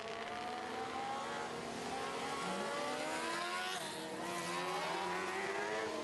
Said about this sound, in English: Now coming on the speedway for their heat race is our Dwarf car division.